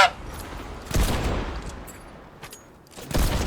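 Bursts of rapid Fortnite gunfire crackle twice, with a sharp volley near the start of the second second and another toward the end, over a low rumbling background.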